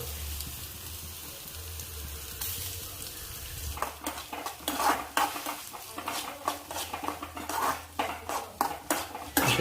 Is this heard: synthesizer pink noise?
no